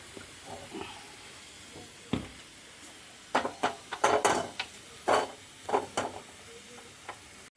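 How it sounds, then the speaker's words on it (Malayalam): Mustard seeds hit hot coconut oil while tempering a kumbalanga (ash gourd) and lentil curry. Sharp, scattered pops and crackles burst out in irregular clusters over a faint steady hiss, close by, with no talking. "കടുക് വറുക്കാം"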